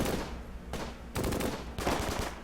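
Bursts of gunfire in the World War II strategy game Close Combat: Gateway to Caen, several loud, rapid clusters of shots one after another with brief gaps, no talk.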